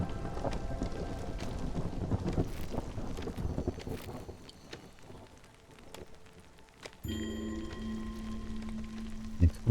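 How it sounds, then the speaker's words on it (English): Rain pours and thunder rumbles through a storm in the video game Against the Storm, a steady wash of rainfall with low rolling booms, then a sudden shift to a tonal hum near the end. "Here comes the storm."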